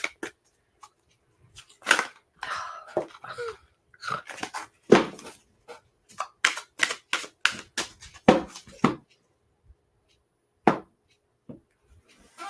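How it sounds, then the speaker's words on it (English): Cards are shuffled and handled up close, irregular bursts of crisp flicking and tapping with short pauses between them. "I'm shuffling to put all of your wishes in."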